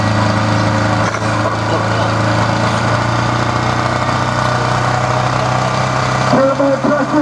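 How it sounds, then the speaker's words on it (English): A diesel drag racer at a Hill & Hole drag racing event builds turbo pressure, with a loud, steady, droning engine roar that holds throughout and rises in pitch near the end. "Turbo pressure being built in the diesel"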